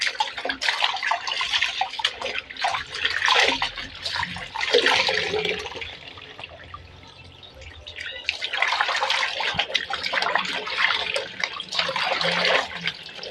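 Water splashing during hand laundry, irregular close sloshes and splashes coming in bursts with quieter gaps between.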